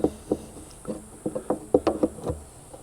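A small wrench tightens a plastic fitting on a homemade rain barrel, giving a series of close, dry mechanical clicks and knocks in uneven bursts, fairly quiet and with no talking.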